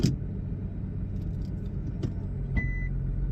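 A car shifted into reverse, with a low idling rumble, a clunk around the middle and a short electronic reversing beep near the end.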